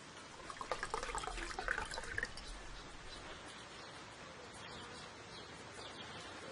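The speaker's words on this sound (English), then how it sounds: "I'll fill it with water." In The Black Mirror video game, water pours into a glass as a soft, steady splashing trickle that thins out and fades to a quiet hiss.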